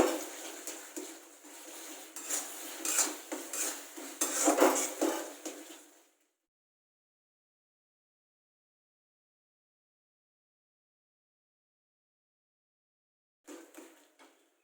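A spoon stirs cooked masala, with oil separated, in a pan, making busy metallic scraping and clattering for about six seconds. Then comes a long silence and a brief final scrape.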